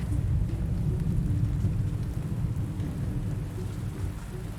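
Heavy rain pours down in a mountain thunderstorm near Tomorr, a dense steady hiss over deep rolling thunder that rumbles continuously throughout, loud and enveloping with no voices.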